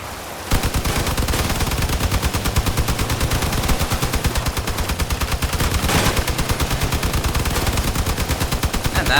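Rapid automatic gunfire from Crossout's vehicle combat game, shooting at one's own armored vehicle during a test drive, loud and continuous with a steady machine-gun rhythm for almost the whole stretch after a brief quiet start.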